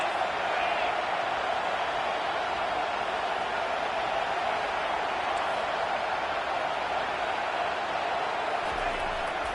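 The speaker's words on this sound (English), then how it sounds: "These fans are going absolutely nuts." Stadium crowd noise in a college football video game with Michigan, a steady loud roar of fans sustained evenly throughout, with a commentator speaking over it.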